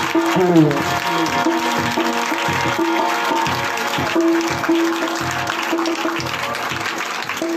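Loud applause from the congregation at a night church prayer meeting, many hands clapping together over a tuneful voice or music.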